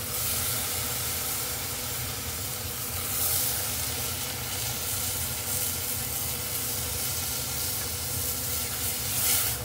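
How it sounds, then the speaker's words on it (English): Liquid stock poured into a hot pan of Espagnole sauce, giving a loud, steady broadband sizzle and hiss of steam that holds evenly throughout, with no talking. "I'm going to add our stock"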